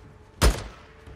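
A single sniper rifle shot rings out in the video game Days Gone: one sharp, fairly close crack with a deep thump that fades quickly into quiet background.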